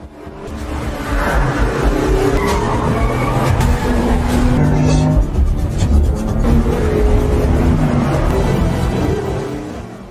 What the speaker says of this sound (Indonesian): Drew terus berusaha melarikan diri memacu mobilnya dengan kecepatan tinggi.